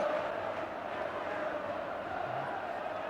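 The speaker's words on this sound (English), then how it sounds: "and rather more noise now from the Kop end." A large football stadium crowd at Liverpool roars and murmurs at a distance, noise rising from the Kop end, a continuous wash with no single voice standing out.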